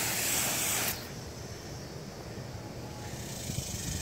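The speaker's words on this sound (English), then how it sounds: "Alright, so let's spray it." A loud hissing spray of fabric protectant onto a convertible top bursts for about a second, then stops, leaving a softer background hiss.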